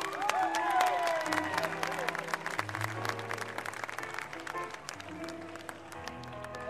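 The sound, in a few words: applause from concert audience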